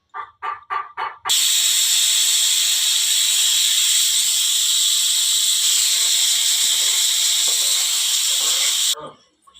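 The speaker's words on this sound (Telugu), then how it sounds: "4 విజిల్ అయితే వచ్చిన తర్వాత ఇలా ఉంది" A pressure cooker holding mutton curry, after four whistles, gives a few short puffs and then a loud, steady jet of escaping steam that hisses continuously for about eight seconds before cutting off abruptly.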